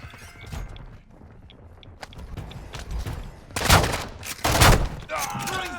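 Heavy gunfire from Call of Duty Modern Warfare II on the Building 21 map breaks out in two loud, dense bursts near the end, over a background of footsteps and scattered shots.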